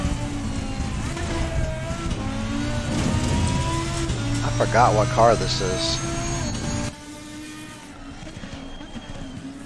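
McLaren race car in the video game Assetto Corsa Competizione, its engine whining through rising and falling gear pitches with a brief squeal, while someone talks over it before the sound drops quieter near the end.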